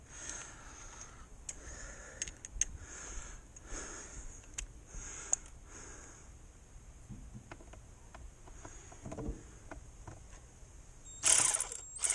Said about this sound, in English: And don't forget to tighten up your 6mm fastener there.